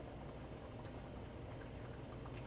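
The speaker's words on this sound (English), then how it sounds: "Oh, it's starting to get some good boils going on." Pot of water for spaghetti boiling on a stove, a steady broadband bubbling roar held at a constant level throughout, close by, with no talking.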